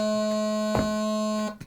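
A bagpipe practice chanter blown and held on one steady reedy note with a buzzing harmonic tone, close and loud, with a brief thump partway through before it cuts off.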